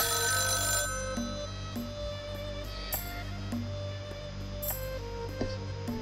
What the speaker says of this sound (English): we're gonna ignore that phone call